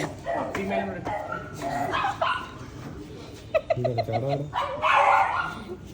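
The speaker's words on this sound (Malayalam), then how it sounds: "നമ്മൾ ആദ്യത്തെ പട്ടിക്കുട്ടിയെ കാണാൻ വേണ്ടി പോവാണേ ആദ്യം നമ്മൾ ബിഗിള് നോക്കാമെന്ന് വിചാരിച്ചു" A two-month-old beagle puppy gives a quick run of high, yapping barks, close by, in the middle of ongoing conversation.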